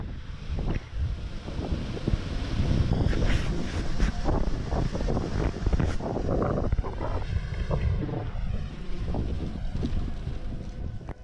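A boat motor drones steadily over choppy water, mixed with heavy wind buffeting the microphone, continuous and fairly close, with no talking.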